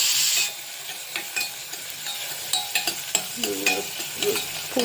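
A pan of green broad bean paste sautés with tomato for a bean curry, a bright sizzle broken by scraping stirs and soft clinks, close and fairly loud with no voices.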